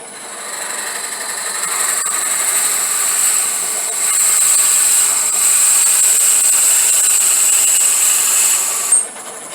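Small wooden box turning on a wood lathe at about 700 RPM, a steady high whine with a scraping tool hiss running continuously and close, fairly loud throughout.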